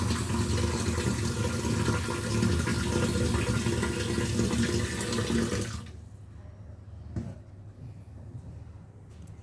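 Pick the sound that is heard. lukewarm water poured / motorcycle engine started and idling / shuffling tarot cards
lukewarm water poured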